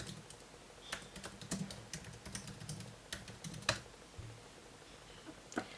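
Keys on a computer keyboard tapped as a search term is typed, a run of quick, light clicks in uneven bursts with a few louder strokes, close up and alone with no talking.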